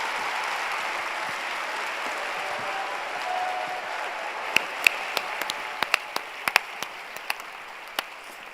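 Theatre audience applauding steadily after a Broadway song performance, a dense wash of clapping throughout with a few sharper, louder claps and whoops standing out in the second half.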